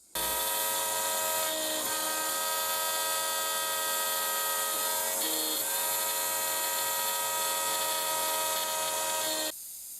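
A new carbide bit climb-cutting a pocket for a Nixie tube clock part, a loud steady high-pitched machining whine with sustained tones and a slight pitch shift midway, stopping just before the end.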